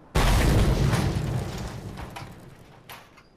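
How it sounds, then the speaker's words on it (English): A single big explosion in the Mad Max video game bursts in loud and sudden, then rumbles and fades over a few seconds, with a faint later crackle and no talking. "How big's that explosion?"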